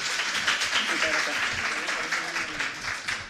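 Audience applause welcoming a guest speaker at a pharmacists' and biochemists' event in Chile, a steady dense clapping that fills the room while a voice speaks briefly over it.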